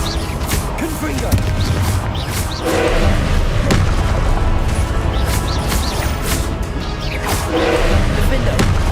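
Repeated Confringo fire-spell blasts in the video game Hogwarts Legacy, booming thuds recurring through dense, loud combat effects with other spell sounds layered in.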